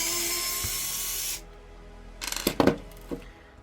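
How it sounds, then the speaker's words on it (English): A small Phillips screwdriver backs out the last screw on a Nintendo DS Lite shell: a loud hiss cuts off, then a quick cluster of close, sharp ticks and scrapes, with one more light click after a pause. "Let's take care of this last Phillips screw right here"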